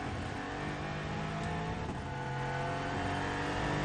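A BMW race car engine at the Bahrain WEC endurance race fills the track audio with a dense, steady roar that holds loud and continuous, with no voices over it.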